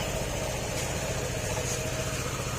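A Honda PCX160 scooter with freshly repaired wiring runs at a steady, even idle, a low continuous engine hum close by with no talking.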